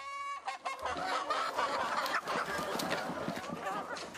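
Chickens cluck and call at a poultry farm in Paju, Gyeonggi Province, raising native Korean fowl; busy overlapping clucks and squawks sound close and continuous.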